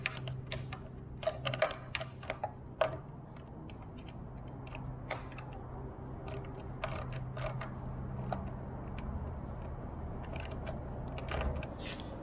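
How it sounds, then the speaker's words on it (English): Clicking and ratcheting of a hand tool tightening bolts on a bracket for a Minimax 1100R wooden aircraft build, with irregular close mechanical clicks over a faint low hum and no talk. "now I'm going to tighten these up"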